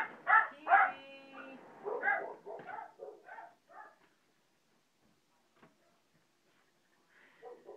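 Indoor dogs bark and whimper in a burst of close yips and howls, then fall quiet for several seconds before a faint whine returns at the end.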